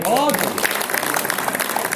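Applause from an audience at a Hindi poetry gathering, a dense burst of clapping that continues steadily under a speaker's voice, which is heard briefly at the start.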